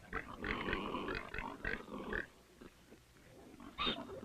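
Pigs grunt and snuffle in a cluster of low, rough calls on a Chinese farm, fairly close, then fall quiet before one more burst near the end.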